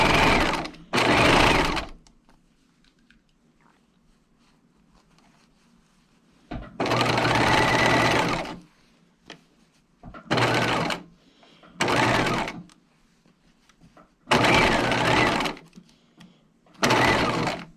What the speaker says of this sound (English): And now I'm stitching that inner neckline edge.